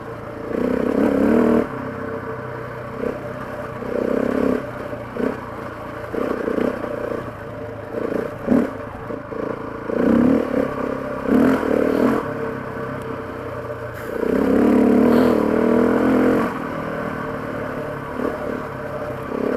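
A KTM 690 or Husqvarna 701 single-cylinder motorcycle engine runs nearby, idling and rising in short surges of revving, with uneven pulses throughout and no speech.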